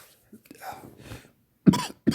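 Two sharp coughs from someone with a sore throat and stuffy nose near the end, close and loud, after a stretch of quiet, low rustling.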